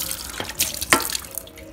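Water from a tap splashes and drips while rinsing built-up detergent out of a part of an automatic washing machine, coming in short irregular gushes over a faint background.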